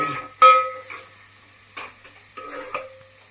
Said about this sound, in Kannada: ನೆಕ್ಸ್ಟ್ ಇದೆಲ್ಲ ಚೆನ್ನಾಗಿ ಸ್ವಲ್ಪ ಫ್ರೈ ಆಗಲಿ.